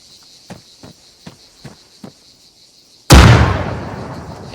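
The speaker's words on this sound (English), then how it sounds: "Throw a grenade in this window." A grenade blows up at a window in the Arma 3 video game: several soft, evenly spaced ticks or footsteps come first, then one sudden loud blast that rolls off into a long, fading rumble.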